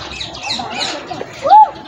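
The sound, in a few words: parrot squawking at a zoo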